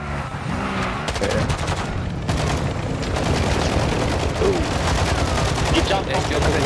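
Video game gunfire, with continuous rapid shots and bursts layered with loud engine-like noise. Voices talk over the shooting throughout.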